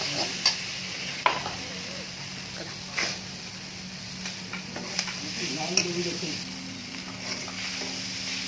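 Pork fried rice with pepper being stir-fried in a pan at home, a steady soft sizzle with scattered light scrapes and taps of stirring, fairly faint and without talk.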